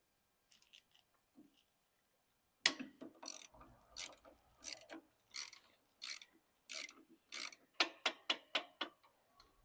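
Bolts on the top brackets of a Royal Enfield Bullet 500 motorcycle are tightened with a ratchet, which gives about a dozen close, crisp clicking bursts in a steady stroke rhythm after a few faint early ticks.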